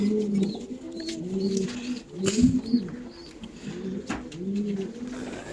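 Racing pigeons in a loft coo close by in repeated soft, throaty rolling phrases, several birds overlapping, with a few brief rustles and knocks in between.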